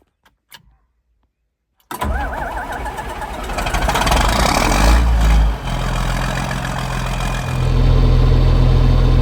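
A farm tractor that sometimes fails to start cranks briefly, then catches and starts with a loud roar, settling into a steady, rumbling idle that grows slightly louder toward the end.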